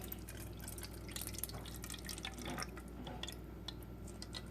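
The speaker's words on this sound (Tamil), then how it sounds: "நான் இந்த மாதிரி ஃபில்டரில் அதில் அப்படியே ஊற்றிக்கலாம்" Coconut milk drips through a filter in a home kitchen, faint and close, with irregular small drops over a steady low background hum.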